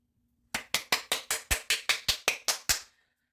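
Eleven evenly spaced hand claps in a steady, brisk rhythm, close and crisp against near silence, ending abruptly.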